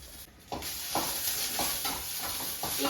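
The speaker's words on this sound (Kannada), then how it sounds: "ಅದನ್ನ ಒಗ್ಗರಣೆಗೆ ಹಾಕೊಳ್ತಾ ಇದ್ದೀನಿ" Thin-sliced onion sizzles in hot oil for a tempering, with a regular rhythm of stirring strokes scraping through the steady hiss, close and clear with no voices.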